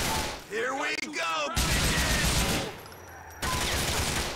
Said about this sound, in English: Fire the fucking bullets!